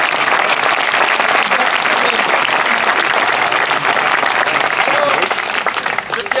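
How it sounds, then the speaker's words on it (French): A theatre audience at a screening event for the 2014 film about rubber cows claps loudly and continuously, a thick sustained roar of many hands with voices mixed in, fading slightly at the very end. "on l'applaudit bien fort"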